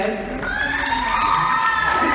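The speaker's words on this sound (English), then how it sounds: "Make sure you cheer them on hard" An audience at the Mrs. Minnesota America 2018 pageant cheers for contestants, a sustained crowd roar of high shouts and whoops, loud and close, with no talk over it.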